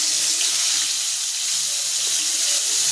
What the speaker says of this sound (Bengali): তেলটা আমার গরম হয়ে গেছে, দিয়ে দেবো মাছটা